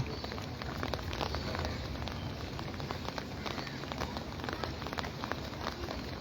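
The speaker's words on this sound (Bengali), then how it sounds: "সকালবেলা ঘিরে ঘিরে বৃষ্টি পড়তেছে" Morning rain falls steadily by a river under a cloudy sky, a dense continuous hiss of drops with small irregular patters, close and even throughout.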